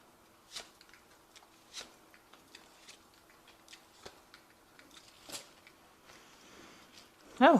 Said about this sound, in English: I have shuffled the deck as well.